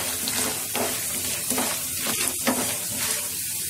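Peanuts, mustard seeds and lentils frying in oil in a pan for idli upitu, a loud continuous crackling sizzle with occasional soft stirring scrapes, no voices.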